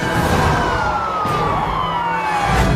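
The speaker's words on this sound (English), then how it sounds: "the sound of a siren behind him sparks an angry encore" A police car siren wails during a chase, its loud, gliding electronic tone sweeping steadily downward over traffic noise and a constant engine roar.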